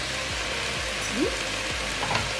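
Diced pancetta frying in a pan for an Italian Trevisana recipe, a dense continuous sizzle and crackle heard up close, with faint scraping as it is stirred and no voices over it.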